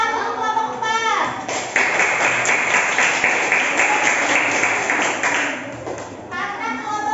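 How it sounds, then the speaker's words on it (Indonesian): Classroom applause for group 4: a dense burst of many hands clapping starts after a second and runs steadily for about five seconds, with children's voices before and after it. "Tepuk tangan untuk kelompok 4"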